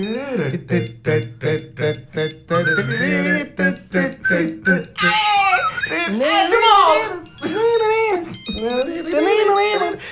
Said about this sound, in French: J'adorais cette sonnerie. C'est du rock and roll de Nokia 3310.